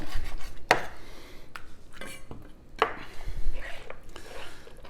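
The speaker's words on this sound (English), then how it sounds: "I'm going to trim a little bit more of this skin and fat off here at the bottom." Sharp, sparse knife strokes and cutting thuds on a board while skin and fat are trimmed from a whole raw duck, a few distinct close hits separated by quiet handling noise.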